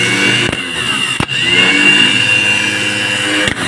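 A newly fitted starter cranks the engine of a walk-behind tractor converted into a mini tractor, giving a loud, close, continuous whirring drone broken by a few brief dropouts, with no one speaking.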